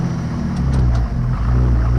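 A 1951 M37 truck engine runs steadily, a loud, low rumbling drone that holds throughout with slight surges, heard close with no talking.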